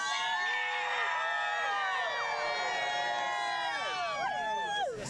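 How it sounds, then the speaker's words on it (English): An excited crowd gathered outdoors for a solar eclipse, with many overlapping shouts, whoops and high-pitched cheers forming a dense, continuous wall of voices throughout. "The crowd's getting really excited too."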